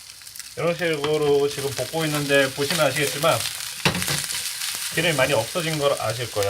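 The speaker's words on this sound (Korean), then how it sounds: "이런 식으로 지금 볶고 있는데" Bell peppers stir-fry in olive oil for Korean-Chinese gochu japchae, giving a steady sizzle that sits under someone talking nearly throughout.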